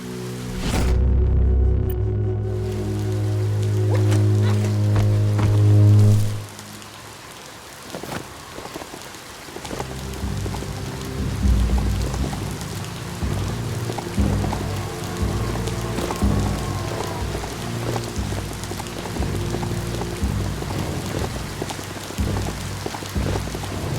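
Rain falls steadily in the video game Biomutant, a dense hiss of drops on surfaces that continues throughout, with a louder, deeper roar over the first few seconds before it settles into an even patter.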